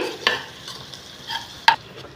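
Soft sizzling of onions frying in oil in a pan, with a few sharp stirring scrapes and clinks standing out at moderate volume.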